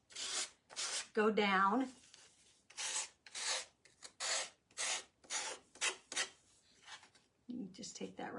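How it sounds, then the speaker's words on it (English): A sander takes the edges off, making rhythmic rasping passes up close, each a second or less with brief gaps, and a voice speaks briefly near the start. "So then you take your sander and sand off your edges."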